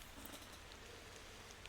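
Steady rain in the driving game Motor Town, a dense, even hiss of drops on surfaces with faint scattered patters, constant throughout.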